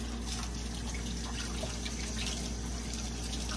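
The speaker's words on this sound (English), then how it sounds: "I'm gonna set it on top of the counter for the time being so I can rinse these shrimp." Steady stream of tap water running into a kitchen sink while shrimp are rinsed, a constant close rushing hiss with faint trickling, no voices.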